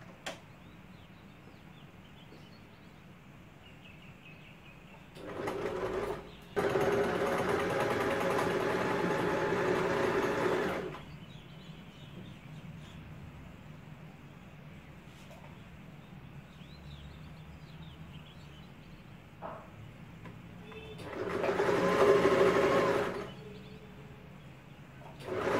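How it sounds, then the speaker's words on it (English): Sewing machine stitching the shoulder seams of a DIY crop top, two loud bursts of rapid mechanical whirring separated by quiet pauses, heard alone. "I am going to sew the shoulder joints. with a seam allowance of around 1/4 inch"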